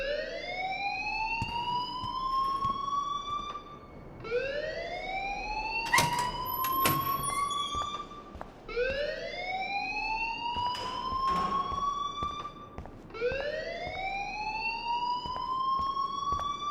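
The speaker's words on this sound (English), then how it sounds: "please turn off that alarm since that's your job" An electronic fire alarm in the video game Life is Strange whoops in four loud, rising sweeps about four seconds apart, with brief clatter between them.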